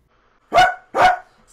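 A man, a streamer, imitates a dog with his voice, giving two loud, close, gruff barks in quick succession with silence around them.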